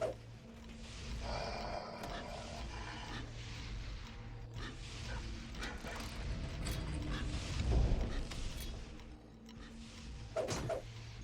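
Heavy stone doors in Dungeons & Dragons Online's Iron Mines grind and rumble shut, a long low mechanical scrape with creaks and clanks continuing for several seconds under game ambience.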